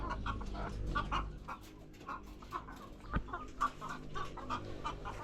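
Several laying hens cluck steadily and close by in a hot coop, with soft overlapping calls and a sharp tap partway through, no talking.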